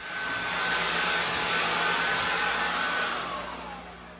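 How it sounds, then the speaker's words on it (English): An old shop blower runs steadily, its airy whoosh swelling up at the start, holding a constant loud hiss with a faint whine, then tapering off as it winds down. "This is my old faithful shop blower."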